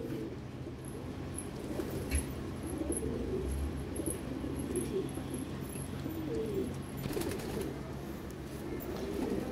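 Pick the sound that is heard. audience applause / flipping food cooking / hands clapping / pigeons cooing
pigeons cooing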